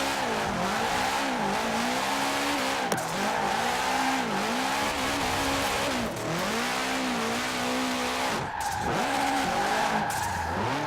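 A 2005 Subaru WRX STI drifting in Forza Horizon 4 gives a continuous loud engine drone with wavering revs and steady tire squeal through corners, briefly dipping near the end before picking back up, with no talking.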